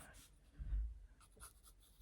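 Pencil scratching loosely over paper while sketching, with a few soft, irregular strokes at close range and no talking.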